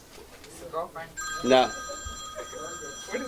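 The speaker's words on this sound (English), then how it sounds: "That's the alarm." Electronic alarm with a sustained multi-tone ringing beep that starts partway through and keeps going under short bursts of nearby talking.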